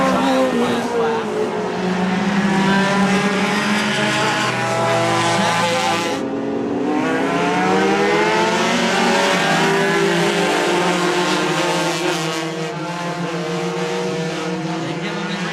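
Stock cars roar off the green flag in a short-track drag race to turn 1, a loud sustained engine wall with rising pitch sweeps, a commentator's voice riding over the racing noise.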